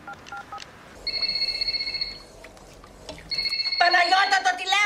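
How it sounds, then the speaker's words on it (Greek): A telephone rings twice with steady electronic tones separated by a short pause, and a voice talks over the second ring. "το τηλέφωνο!"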